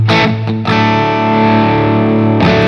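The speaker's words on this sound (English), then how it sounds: "you can actually hear that mid range into distortion going, it brings it forward" Electric guitar on the bridge pickup played through distortion with full mid boost: a sustained, thick distorted chord rings out loud and forward, with a couple of short picked attacks at the start and a fresh strum near the end.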